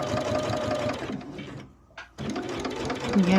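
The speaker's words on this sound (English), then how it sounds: "I'm just going to continue sewing these 2 rows together" A sewing machine with a walking foot stitches quilt rows together in a steady close whir, pausing briefly partway through before running again, loud and alone.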